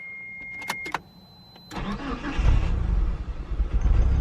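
Mitsubishi Galant VR4 with a recently replaced coolant temperature sensor, starting with difficulty: a couple of beeps and clicks, a short pause, then the starter cranks and the engine catches into a loud, rough, uneven idle close by.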